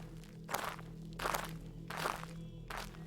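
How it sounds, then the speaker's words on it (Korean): Footsteps crunch in a slow, even rhythm, four heavy treads spaced about half a second to a second apart, faint and distant-sounding over a low steady hum. "저벅저벅하고 여러 사람들의 발소리가 멀리서 들려왔습니다"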